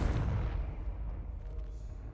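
A Confringo spell detonating in the Hogwarts Legacy video game, a loud continuous blast with heavy low rumble that slowly tails off with faint crackling over about two seconds.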